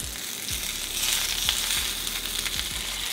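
Beef patty for a cheesy jalapeño burger sizzles and fries steadily in a hot pan, a close, continuous crackle with a few soft scraping clunks at intervals and no talking.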